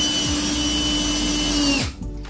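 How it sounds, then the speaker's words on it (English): A power drill drives screws into a wooden subfloor, its loud, steady whine running close-up for nearly two seconds before cutting off abruptly, leaving brief quieter handling noise. "making sure that these screws are going all the way in"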